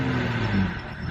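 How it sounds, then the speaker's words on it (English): Saab car engine revving in short bursts, a steady low rumble with rising harmonic tones, close and fairly loud with no talking. "maybe give you guys a couple revs here."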